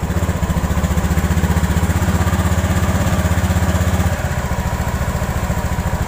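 A Honda Beat FI fuel-injected scooter engine, being checked for a weak ECU and a faulty TPS sensor, runs at a steady loud idle with an even rapid putter, its pitch dropping slightly partway through.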